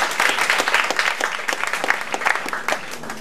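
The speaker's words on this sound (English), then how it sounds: "Round of applause for yourself again." Audience applause at a high school matric dance, a dense steady wash of many hands clapping close by for the full stretch with no pause.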